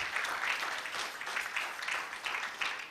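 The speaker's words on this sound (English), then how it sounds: "Please, let's clap for them." An audience at a public healthcare lecture claps for a committee, a steady patter of applause from a moderately sized crowd that holds an even level throughout.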